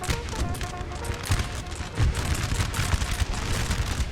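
Artillery firing round shot in Napoleon: Total War, a battle scene of booming cannon reports and crackling volleys overlapping in a dense, continuous barrage at mid distance.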